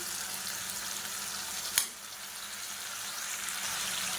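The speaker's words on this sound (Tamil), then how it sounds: "இது எல்லாத்தையும் நல்லா வதக்கிக்கலாம்." Tomato, onion, drumstick, brinjal, beans and carrot sauté in a pan with a soft, steady sizzle, one brief sharper clatter of stirring partway through, no voices.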